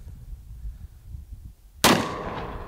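A single sharp, loud Desert Eagle handgun shot fired at an auto popper target outdoors, a sudden crack after quiet rustling, leaving a booming tail that rings out to the end.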